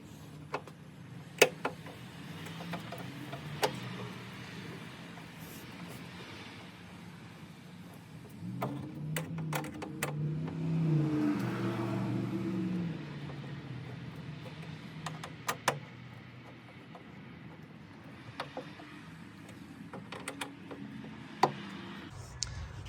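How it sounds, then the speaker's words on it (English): Bolts being tightened on a Hummer H1 power window regulator, with sparse sharp metallic clicks and ratchet ticks scattered over a low background hum, a brief louder rustling stretch in the middle. "Now we've got all those bolts tight."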